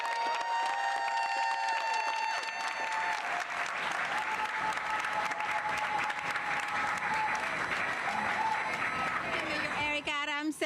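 Continuous loud applause and some cheering from a crowd at a mayoral budget rally for Mayor Eric Adams, steady throughout, with a bit of cheering and talk underneath.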